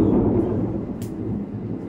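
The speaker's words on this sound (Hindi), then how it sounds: "अरे बिजली कड़क रही है" Thunder rumbling during a storm, a steady low roll that fills the whole stretch, loud and close, with no clear talk over it.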